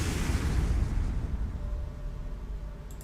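A torpedo explosion in the strategy game Strategic Mind: Blitzkrieg rolls out as a broad, rumbling blast that slowly fades into a low, noisy tail.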